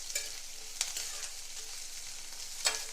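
Onions, garlic cloves and ginger fry in a pan with a soft, steady sizzle, broken by a few sharp scrapes of stirring.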